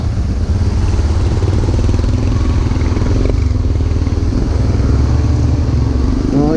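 Several Suzuki Burgman Street EX 125 scooters ride together toward Kanibad on Samal Island, giving a steady, loud, close engine drone with rushing wind noise that continues throughout.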